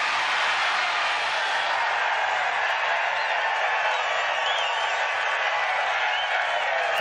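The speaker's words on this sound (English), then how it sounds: "It's the loudest cheer of the week, and it is bouncing around Chambers Bay." A large golf gallery at Chambers Bay roars after a made putt during the U.S. Open final round, a dense, sustained wall of cheering and applause that stays loud and unbroken throughout.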